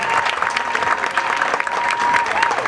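A crowd claps loudly and steadily at an outdoor classical music concert in a public square in Cap-Haïtien, dense applause with a few scattered cheers and some talk mixed in.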